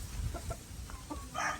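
Backyard chickens at a breeder's yard give short, soft clucks in a few scattered bursts over a low hum of background noise.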